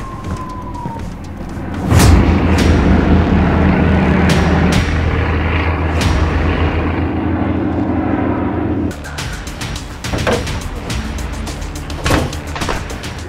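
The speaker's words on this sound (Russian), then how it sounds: "Грузимся в самолет." A Free Fire video game airplane drones with a sustained engine hum and low rumble throughout, punctuated by several sharp clicks and bursts, with a brief break in tone partway through.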